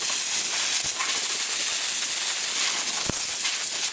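Loud, continuous hiss of compressed air blowing dust out of a Volkswagen Vanagon Westfalia roof, steady and close for the whole stretch with only a brief faint knock partway through.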